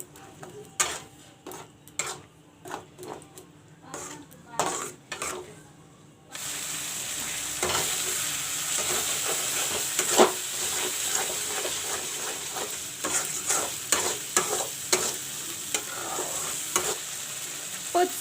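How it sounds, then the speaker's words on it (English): Chili powder masala frying in a pan for a village-style fish curry. The sizzle grows louder partway through, with frequent stirring scrapes and clicks. There is no talk. "Put 2 spoons chili powder. And let the masala fry."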